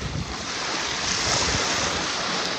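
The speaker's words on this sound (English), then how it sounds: "We made it out here to the beach at Cypremort State Park." Waves rolling onto the brown sand beach at Cypremort Point State Park in Louisiana, a dense continuous wash of surf mixed with heavy wind buffeting the microphone, with no talking.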